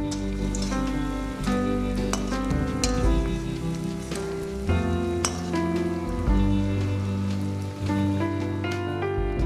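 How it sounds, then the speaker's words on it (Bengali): Two katla fish chops sizzle steadily in hot oil, a continuous bright crackling hiss close by that runs the whole time without letting up, with a tonal background sound layered underneath and no talking. "প্রথমে এই দুটো তেলে দিয়ে দিলাম"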